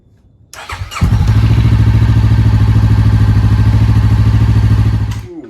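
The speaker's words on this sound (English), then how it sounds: "I'm gonna go ahead and start up the CBR now" A Honda CBR sport motorcycle cranks briefly with a starter whir, then fires and settles into a loud, steady close-up idle with a rapid even pulse, fading slightly at the end.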